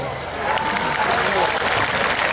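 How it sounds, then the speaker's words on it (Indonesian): Audience applause at a Javanese Islamic sholawat religious gathering, a dense steady wash of clapping from a large crowd that fills the whole stretch at moderate loudness. "Tepuk tangan."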